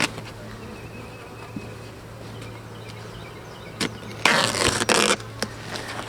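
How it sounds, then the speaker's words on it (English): Tape peeled off a wooden beehive in winter, giving a few brief ripping scrapes near the end, with a longer tearing burst. A faint steady hum runs underneath. "Taking off the tape that I taped the hives together with this winter to seal that crack."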